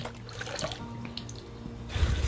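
Vinegar poured from a container into soy sauce brine for pickled crunchy green chili peppers makes a close liquid splash and gurgle that grows heavier toward the end.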